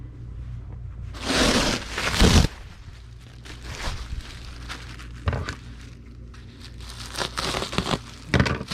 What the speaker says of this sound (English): Now we need to get a sheet of bubble wrap and cut it in half.